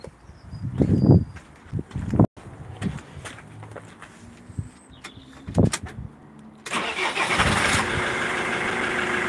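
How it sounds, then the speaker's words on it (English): A car engine cranks and catches, settling into a steady running rumble after some earlier handling noises and clicks, with a Pico 4425A diagnostic tool connected. "So we'll start the vehicle."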